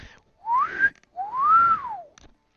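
A person whistles two rising-and-falling tonal phrases in imitation of a dwarf's whistle, the first short and sweeping upward, the second longer and arching, clear and close with no other sound.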